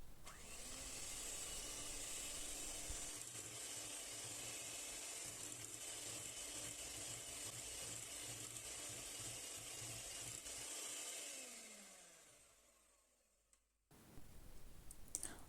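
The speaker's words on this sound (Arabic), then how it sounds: "نكمل نخفق بالضراب" An electric mixer fitted with beaters whisks a fondant cake batter in a bowl, giving a steady, loud whirring drone with rattling clicks that keeps on for about eleven seconds, then winds down and stops.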